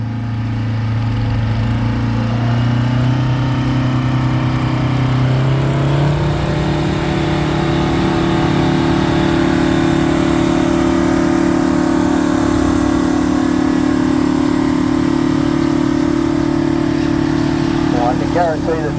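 A high-horsepower vintage tractor in a tractor pull at a machinery rally, its engine droning loud and close, pitch climbing as it revs up partway through, then holding a steady heavy roar under announcer-style commentary.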